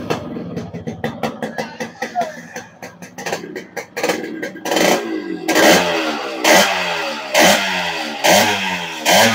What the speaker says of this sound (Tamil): இப்போ இந்த வண்டியோட பீட் சவுண்ட் காட்டுறேன் பாருங்கள் எப்படி இருக்குன்னு